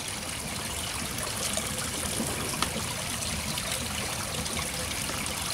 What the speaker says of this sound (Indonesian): lagi diperas airnya bos, lagi dicuci